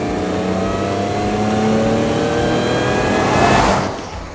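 A Land Rover LR4's 3-liter supercharged V6 engine accelerates, its rising harmonic tone climbing steadily and growing louder toward a peak before easing off near the end.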